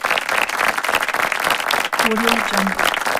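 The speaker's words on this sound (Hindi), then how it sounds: "बस आपके तालियों में भी जोर होना चाहिए" Lively audience applause at a televised comedy show finale, dense clapping throughout with a voice rising briefly over it partway through.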